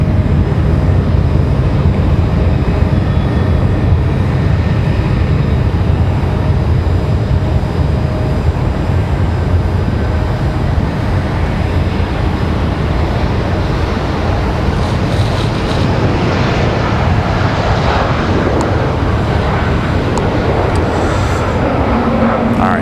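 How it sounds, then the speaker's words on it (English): Airbus A220 airliner landing at Raleigh-Durham International Airport, heard as a loud continuous roar of engines and wind rushing across the whole span, steady and close, with faint hissing texture toward the end. "As the A220 touches down there."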